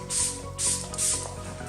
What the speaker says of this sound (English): Just one more spray of Fix Plus, then we're done.